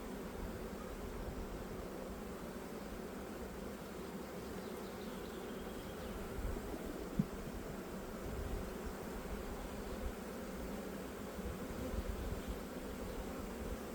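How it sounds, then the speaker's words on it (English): Honey bees from a small, weak hive colony buzz in a continuous close drone during a colony merge, broken only by one faint click partway through; no one speaks. "Very small amount of bees."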